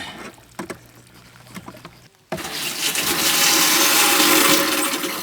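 A micro hydro pipe leaks water, a few knocks and trickles giving way to a sudden loud, close rush and spray that continues strongly to the end, with no speech.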